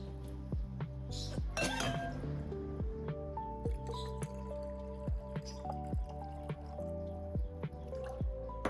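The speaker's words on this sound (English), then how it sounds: "Now pour a good portion of that solution into your spray bottle." Liquid solution pours and drips into a spray bottle, close and clear, with irregular splashy trickles and drips throughout and no talking.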